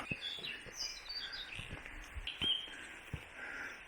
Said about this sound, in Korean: 새가 노래를 하는구먼